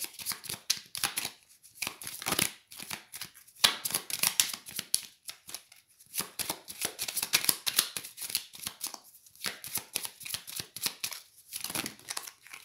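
Tarot cards shuffled by hand close up, a steady run of quick papery riffles and soft slaps in uneven bursts with brief pauses, no voices.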